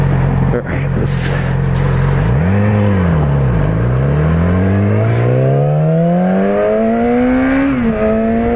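A 2016 Yamaha R6 sport bike revs and accelerates, its loud, close engine note climbing steadily through the gears with a brief dip between shifts, over constant wind roar.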